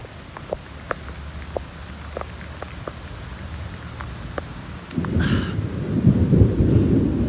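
Sparse drips and taps give way to a loud, dense rush of heavy rain that swells and continues to the end.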